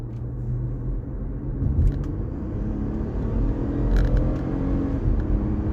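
A car in paddle-shift mode revs down, giving a low, close engine rumble that rises and falls gently over several seconds with faint mechanical creaks, no talking.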